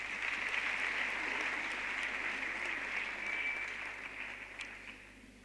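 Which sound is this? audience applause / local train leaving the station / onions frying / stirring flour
audience applause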